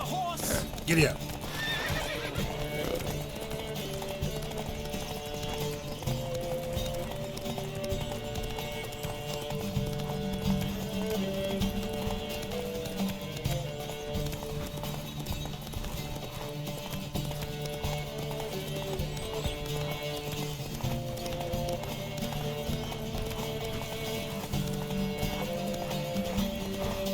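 Horses galloping in a race along Zerrikanian Bay in The Witcher 3: Wild Hunt, steady hoofbeats with neighs and whinnies under continuous game music, with voices shouting at the start.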